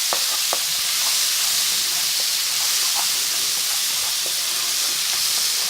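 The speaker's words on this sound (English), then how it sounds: "Give that a stir." Okra and tomatoes sizzle in a hot pan, giving a loud, steady hiss with occasional scrapes and knocks as a spoon stirs them.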